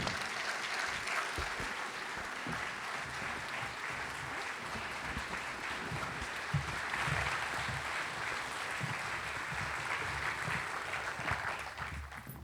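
An audience at a literary conversation event applauds steadily for about twelve seconds: a dense, continuous wash of clapping that tapers off at the end.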